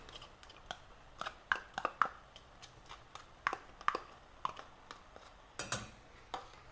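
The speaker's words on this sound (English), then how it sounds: "and now the 4 ounces of tomato sauce and 3 ounces of tomato paste. Put that in." Tomato sauce and paste being added to a pan and mixed, a series of close, irregular clinks, taps and scrapes of utensil against cookware without talk.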